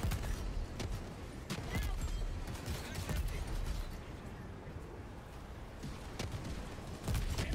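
Video game gunfire in a chaotic shooter battle, with dense crackling bursts and repeated sharp shots over a continuous rumble, moderately loud throughout.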